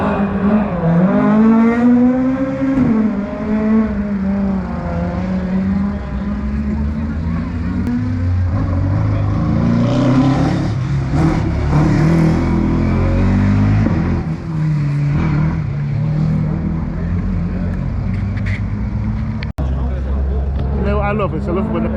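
Rally cars race a stage at Donington Park, their engines revving and rising and falling in pitch, loud and steady throughout, while people talk over them nearby.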